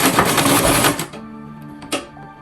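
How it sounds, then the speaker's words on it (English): A sewing machine stitches a button-up shirt in a quick, loud mechanical burst that stops after about a second, followed by quieter clicks and a brief final clatter. "As you are sewing, you'll be removing the pin."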